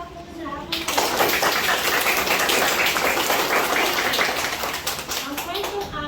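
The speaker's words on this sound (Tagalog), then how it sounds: "Palakpak mo na ako." Classmates clap together in a school classroom, a steady dense patter of hands lasting several seconds after a brief voice at the start.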